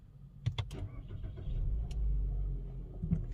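Mitsubishi Xforce started with its push start button: a few faint clicks, then the engine cranks and catches into a low, steady idle, heard close inside the car without talk.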